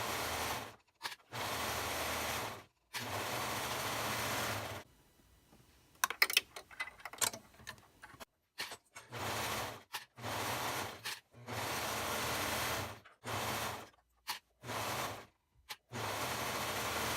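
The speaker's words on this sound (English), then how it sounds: "Next, we will take both of these to our sewing machine or serger and sew along the edges where you've just clipped." Sewing machine or serger running in steady bursts of a few seconds each, stitching along the clipped fabric edges of a baby bow headband, with short pauses and faint handling rustle between runs.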